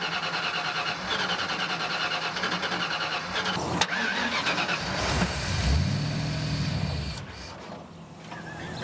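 A custom Mustang's engine cranks repeatedly without starting, a rhythmic churning starter noise, then a brief higher whine before it stops. Fairly close and loud, no talking.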